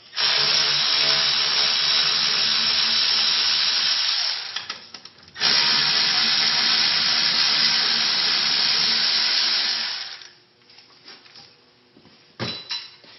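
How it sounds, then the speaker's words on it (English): A power tool removes the two bolts holding a brake caliper in place. Two long, loud whirring bursts are split by a short pause, followed by quieter handling noise and a brief metallic clank. "I'm going to remove the 2 bolts that hold the caliper on."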